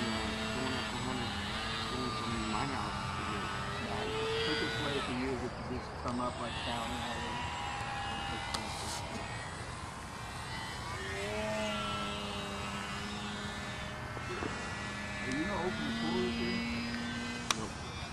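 A small Kalteisen EPP Extra 260 aerobatic model airplane flies before landing, its electric motor giving a steady buzzing whine that rises and falls in pitch as it passes, under occasional talk.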